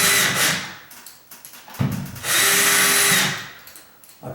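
A power drill drives screws into a sagging bathroom door in two whirring bursts, each spinning up and stopping, with short clicks and handling noises between them; close and fairly loud.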